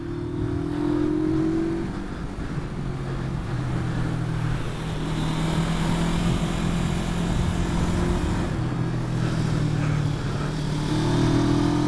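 A Junak SR 400 motorcycle being ridden, its steady engine drone and road roar running continuously and fairly loud throughout, with a slight rise in revs near the end.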